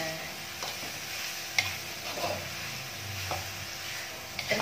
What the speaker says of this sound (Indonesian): Sekarang kita aduk-aduk kembali.